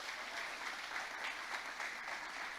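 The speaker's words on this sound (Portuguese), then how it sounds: "Vamos dar uma salva de palmas para Jesus." A church congregation at a Sunday service applauds, a dense, steady wash of many hands clapping together without a break.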